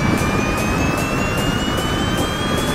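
A Honda CB500X or Yamaha MT-03 motorcycle engine gives a loud, steady drone with a slowly rising whine that holds for the whole stretch, with no talking.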